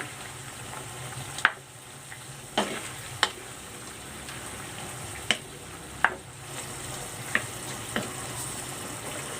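Pork liver frying in a pan for igado, a steady low sizzle broken by several sharp clacks of a utensil stirring and scraping at uneven intervals, close up with no talk.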